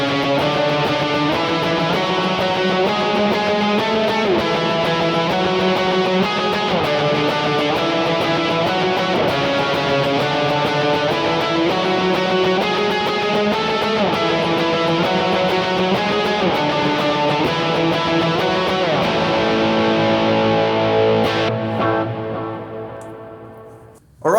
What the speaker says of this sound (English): kind of a polyrhythmic strumming pattern, which I'll use now, but just to show you, I can use chord tones and passing tones to outline that progression